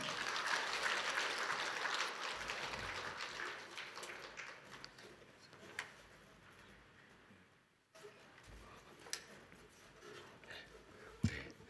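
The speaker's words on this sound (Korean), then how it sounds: "박수로 환영하겠습니다." A church congregation at a Korean autumn revival service applauds to welcome the pastor, with soft, fairly distant clapping that fades partway through before a few scattered claps and knocks follow.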